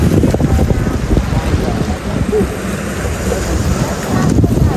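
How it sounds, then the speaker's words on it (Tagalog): Sea surf at a crowded tourist beach with a large ship offshore rolls in as a steady loud wash of waves mixed with heavy wind buffeting the microphone, continuous for several seconds. "Dito kami sa dagat guys. Daming turista dito guys."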